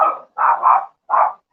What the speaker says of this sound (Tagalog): ingay naman ng aso ko